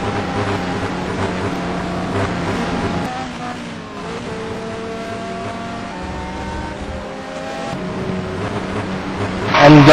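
Race car engines drone steadily during a Bahrain circuit race, several tones overlapping and shifting pitch as the cars pass, with a louder surge near the end.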